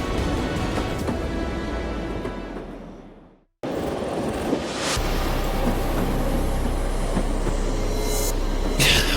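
A train rolls along its rails in a 360° animated scene of a kraken attacking it: a steady loud rumble with rattling, a brief drop to near silence around the midpoint, then heavier rolling and bursts of high hiss or squeal.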